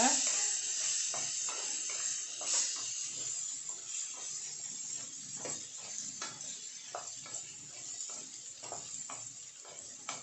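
Potatoes sizzle steadily as they fry in a pan for a Tamil potato fry, with repeated scraping stirs breaking through the continuous hiss throughout.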